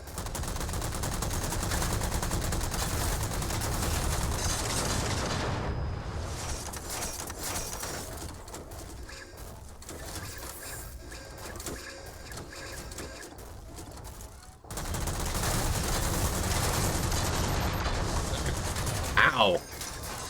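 Rocket fire and explosions during a mech match in a video game: dense, loud bursts of blasts and rapid impacts that thin into quieter rumbling mid-way, then surge back with heavy fire near the end.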